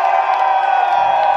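A crowd clapping and cheering for a Honda Accord at a car meet, a dense continuous wash of applause and shouting voices, loud and steady throughout.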